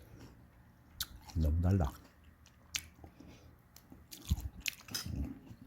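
Someone bites into and chews food late at night while others talk, the chewing coming as a few soft, close mouth sounds scattered between bursts of speech.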